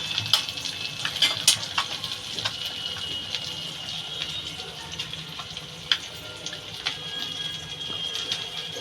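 Eggs and green chillies fry in oil with a steady close sizzle, dotted with light crackles and the occasional tap of a utensil.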